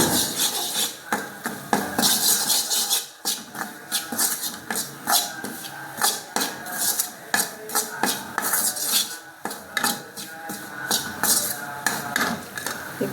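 Spoon scrapes and clinks rhythmically against a pan as wheat flour is stirred and roasted in ghee for moong dal halva. The strokes are repeated, close and fairly loud, with no talking.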